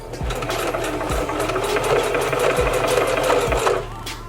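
Sewing machine stitching hair bundles onto a wig dome cap, a steady fast mechanical whir and rattle running close and loud almost throughout before it stops near the end, with no talking.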